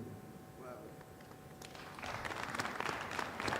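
Audience applause at the official launch of a national irrigation sector investment plan, building from quiet room tone into a dense patter of clapping that carries on to the end.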